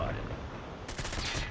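Gunfire from the mobile shooter Call of Duty Mobile, a quiet rapid burst of shots arriving in the second half after a low, muffled stretch.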